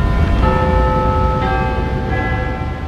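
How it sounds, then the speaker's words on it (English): Big Ben, a large clock tower bell, rings out with long, sustained tones over a steady low rumble of background noise, struck a couple of times. "That was the sound of Big Ben telling us the time"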